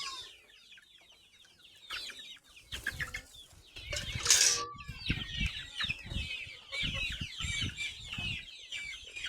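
Hens cluck and chatter repeatedly nearby, with a louder squawk in the middle and busy farmyard bird calls throughout, no talking.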